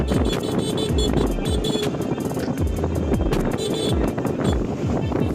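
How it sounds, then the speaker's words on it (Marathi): A vehicle engine drones steadily along a winding ghat road near Khandala and Lonavala, with strong wind buffeting throughout, loud and continuous with no pauses. "इंजिनचा आवाज आणि वाऱ्याची झोप परफेक्ट कॉम्बिनेशन."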